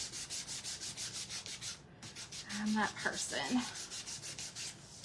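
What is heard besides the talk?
sanding blue painted wooden craft piece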